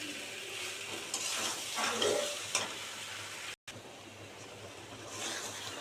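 Fried pointed gourd being sautéed and stirred in a pan with spices, a soft steady sizzle with occasional scraping of the spatula, fairly quiet and close, with a brief dropout midway.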